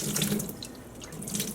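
Dyed wool roving rinsed under a running tap, with water splashing and gurgling steadily as the fiber is gently squeezed and released, close and moderately quiet.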